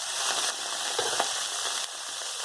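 Fermented bean curd frying in a pan for a Hong Kong-style lamb stew gives a steady, close hiss of sizzling oil with a faint soft knock partway through, no voices.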